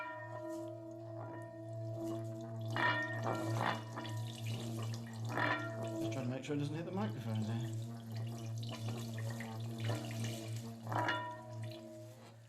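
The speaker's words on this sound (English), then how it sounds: "the fountain bowl sort of, I hope, demonstrates just how the sound can actually... And the water's dancing" A sustained metallic hum with ringing overtones and bubbling, splashing water, while a person talks over it nearby.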